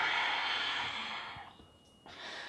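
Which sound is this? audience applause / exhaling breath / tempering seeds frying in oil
exhaling breath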